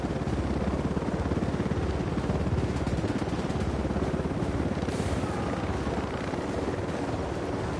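Steady, rapid chopping rotor thump of an Apache attack helicopter in a video game, hovering close by, loud and continuous, with faint crackles of distant gunfire mixed in.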